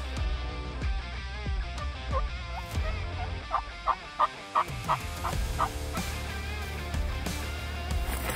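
A wild turkey gobbler answers box calls with a run of rapid, rattling gobbles at moderate distance outdoors in the evening woods, several pulsed bursts in quick succession over steady background noise.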